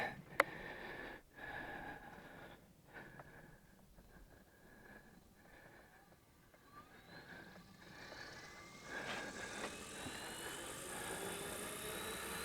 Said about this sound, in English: Maiden flight of the SAB Goblin Buddy.